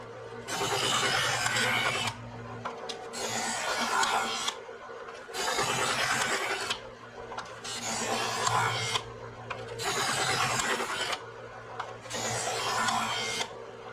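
A knife is drawn through a sharpener in repeated strokes, each a rough rasping scrape lasting about two seconds, separated by short gaps, close and clear.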